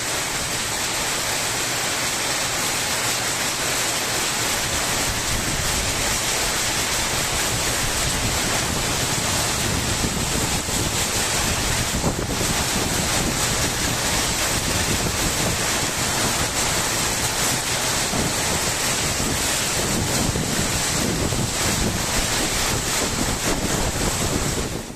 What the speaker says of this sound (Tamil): மதுரையில் சூறை காற்றுடன் கொட்டி தீர்க்கும் கனமழையால் பல இடங்களில் மரங்கள் வேரோடு சாய்ந்துள்ளன.